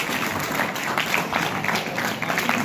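An audience at a community hall gathering in Karnal claps in sustained, dense applause that fills the whole moment at a steady loudness.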